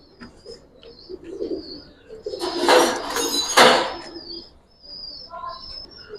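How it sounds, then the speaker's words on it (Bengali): A female Giribaz pigeon coos in bursts of soft, throaty calls at close range, with a louder cluster of sound in the middle, faint chirps from other birds and light clattering around it. "এটা একটা মাদি কবুতর"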